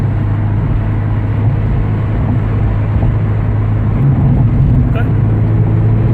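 Steady low engine drone and road rumble from a 1986 Porsche 944 Turbo cruising straight down the road, heard from inside the cabin; someone speaks briefly over the constant hum.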